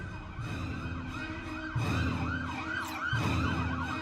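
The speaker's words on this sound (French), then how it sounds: "Mais qu'est-ce que c'est que ces sirènes?" Wailing emergency sirens rise and fall continuously, fairly loud and steady, with a second siren tone layered over a low rumble of traffic.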